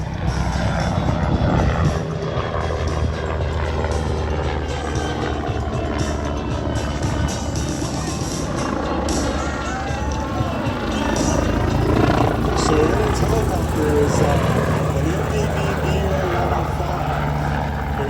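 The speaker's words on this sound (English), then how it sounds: "Red Bull helicopters are twin engines, 2 Rolls-Royce 250 C2OB engines" A twin-engine Red Bull helicopter with two Rolls-Royce 250-C20B engines drones steadily at an air show, deep rotor rumble and engine whine, loud and continuous throughout, swelling slightly in the middle.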